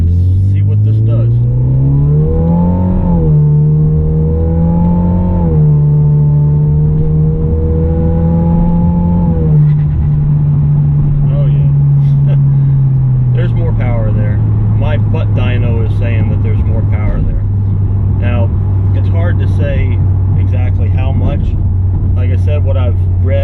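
An upgraded Hyundai Genesis Coupe 2.0T pulls away after a U-turn, its engine drone climbing and dipping through gear changes, then settling into a steady cruise hum.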